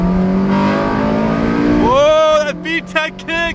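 A Honda Civic Si with a MagnaFlow exhaust drones under load, then revs up sharply with a rising engine note before quick shifts break the pull into short bursts; a voice speaks over it.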